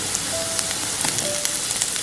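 Garlic and ginger paste frying with onions in a pan, a steady bright sizzle with scattered crackles and pops, close and continuous, with no talking.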